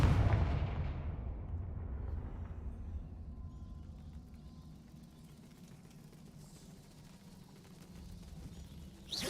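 A fiery Confringo spell explosion in a video game, opening with a loud booming blast that decays into a long low rumble and hiss, with a fresh burst at the very end.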